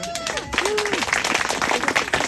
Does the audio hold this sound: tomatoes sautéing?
no